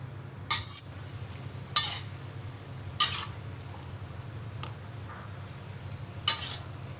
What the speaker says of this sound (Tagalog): So, i-mix lang po natin. Halo-halo lang po.